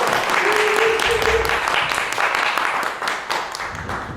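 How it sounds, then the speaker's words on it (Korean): A crowd at a panel discussion on labour in the climate crisis applauds an introduced speaker, with sustained clapping that fades slightly toward the end. "큰 박수 부탁드릴게요."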